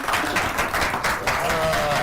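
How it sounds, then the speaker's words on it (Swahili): Applause from a studio audience at a Kenyan talk show hosting an environmentalist, a dense, steady patter of many hands lasting a couple of seconds, with faint voices mixed in. "Tupige makofi."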